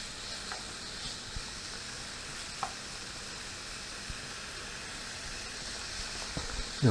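Mushrooms, a small handful of good-sized ones, sizzle steadily in a hot pan with rehydrated freeze-dried eggs and ham, a soft continuous frying hiss broken by a few faint clicks and a utensil tap near the end.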